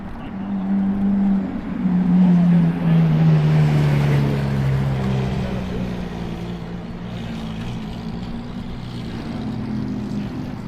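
Lamborghini Aventador SVJ engines at a car gathering in Japan rumble in the distance, a low sustained drone whose pitch falls gradually as it fades into steady background noise.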